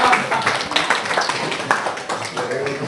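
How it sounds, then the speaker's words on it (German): Clapping at a 2008 business dinner in Geyerswörth, a burst of hand claps close by, mixed with voices talking over it throughout. "Da jetzt jeder applaudiert hat"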